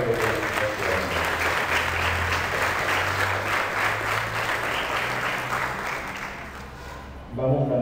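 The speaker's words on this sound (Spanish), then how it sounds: "Le damos un fuerte aplauso de felicitación." Sustained applause from a church congregation during Mass, congratulating a birthday, steady and dense throughout before fading out at the end.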